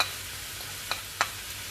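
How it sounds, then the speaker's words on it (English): Turmeric and other spices land in hot oil in a pan for an egg gravy, giving a faint steady sizzle with a couple of brief crackling bursts as they go in. "We will throw in our spices now. First goes the turmeric"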